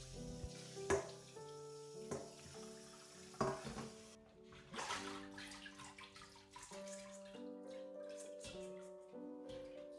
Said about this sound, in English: Give it a rinse.